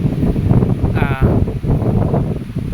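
Wind gusting across a seaside boulevard in Poblacion Amlan, Negros Oriental, buffeting the microphone with a steady, close, low rumble that swells and eases throughout.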